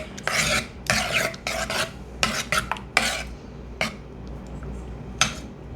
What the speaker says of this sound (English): I just wanna stir it all up to get that milk really infused with the pawpaw and the flavors that I added